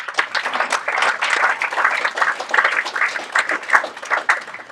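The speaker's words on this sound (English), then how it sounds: "Great work, everybody. Round of applause." An audience at a Department of Energy and Environment meeting gives a round of applause, a moderate, uneven patter of many hands clapping with no talk over it.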